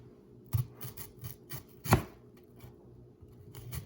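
A knife chopping onions on a board: a few separate quiet cuts, one louder thud near the middle, spaced irregularly, with no speech.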